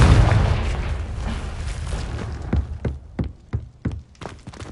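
A Confringo fire spell exploding in Hogwarts Legacy, a heavy booming burst followed by a rapid series of sharp thumping impacts, loud and close.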